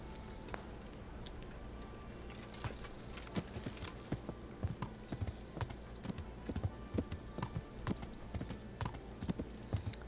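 Horse hooves clip-clopping in the video game Kingdom Come Deliverance, a steady walking rhythm of close hoof strikes on hard ground, growing more distinct partway through.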